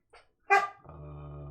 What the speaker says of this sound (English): I'm not ready for the bark of Amos.